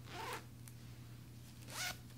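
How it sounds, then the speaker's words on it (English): A zipper on a designer bag is pulled twice, two short rasping zips close up against a quiet room background with a steady low hum. "Let's try the zipper."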